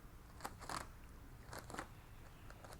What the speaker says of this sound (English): Trim the Glad wrap around the edge of the container just to neaten it up a little bit